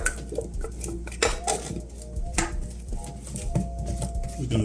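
Oregano-seasoned potatoes tipped into a metal pan for oven roasting, a busy close clatter of pieces and utensils knocking against the pan.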